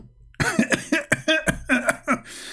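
A burst of repeated, harsh coughs in quick succession, close and loud, with no talking.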